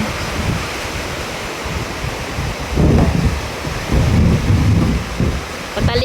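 Heavy rain pours steadily with low rumbling swells of thunder building in the middle and end, broadband roar filling the background with no talk.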